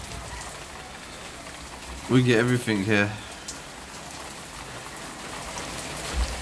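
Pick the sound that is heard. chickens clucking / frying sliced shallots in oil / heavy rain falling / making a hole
heavy rain falling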